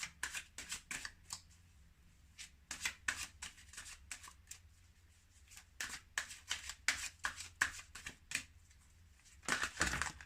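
Tarot cards are shuffled by hand close up in repeated quick riffling bursts with brief pauses between them, crisp and papery, with no talking.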